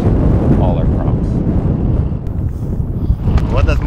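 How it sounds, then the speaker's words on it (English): Strong gusting wind of around 50 to 60 miles an hour buffets the microphone during a wind warning, a loud continuous roaring rumble with surging gusts. Faint voices can be made out within the noise. "there was a wind warning, they said 20, 30, 50 mile an hour winds, gusting to 50, 60 miles an hour"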